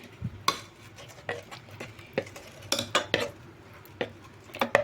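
A spoon stirs a blended garlic and cumin paste into cooked dal in a pot, giving repeated scraping, clinking knocks against the vessel at an irregular, unhurried pace, close and fairly soft with no talking.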